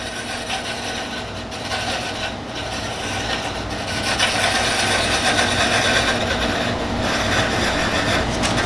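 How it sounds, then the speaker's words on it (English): Sandpaper is held against a wooden pen blank spinning on a lathe. It makes a continuous, loud, even rasping hiss that swells slightly partway through, with no talking. "Sanding is what's going to bring it down to the actual shape."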